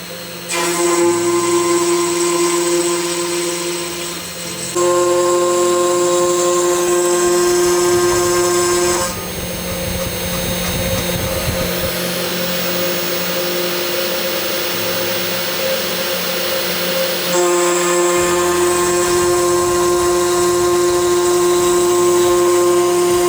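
A Two Trees TTC450 PRO hobby CNC machine cuts solid wood, giving a loud, continuous motor whine. Its steady tones step up and down in pitch as the cutting passes change.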